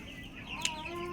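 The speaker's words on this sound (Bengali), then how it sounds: "4টা মুরগি" A native farmyard hen gives a soft cluck with one short sharp call in the middle, faint against quiet background murmur, with no speech over it.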